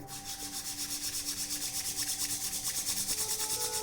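Two palms rubbed steadily back and forth during a guided yogic breathing meditation, a close, even swishing in a regular rhythm that grows a little louder, with a soft tone humming underneath and no speech.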